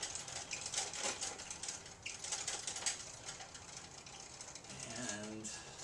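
The depth adjustment crank on a Jet 8-inch jointer planer turns with a rapid run of ratcheting mechanical clicks and gear whirring up close, and a voice speaks briefly partway through.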